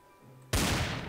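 Revolver gunshots from a modded Minecraft game, a sudden loud shot after a quiet moment, with a dense crackling burst that carries on to the end.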